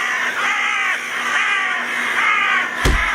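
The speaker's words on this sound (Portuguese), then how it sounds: "De peito estufado, o corvo abriu o bico e se pôs a cantar." Crow used as an audiobook sound effect, giving several harsh, drawn-out caws in a row, close and loud, followed by a short sharp thump near the end.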